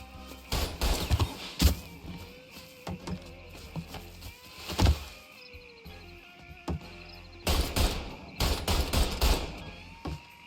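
A Mafia 3 shootout: bursts of close gunfire crack in clusters, with quieter gaps and scattered single shots between the louder volleys.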